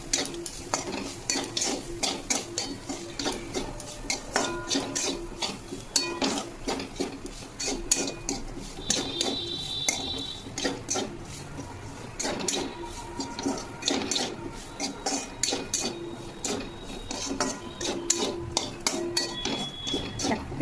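Beetroot, carrot and bean fry being stirred in a pan, a busy run of spatula scrapes and metal clinks over a low sizzle, continuous and close throughout.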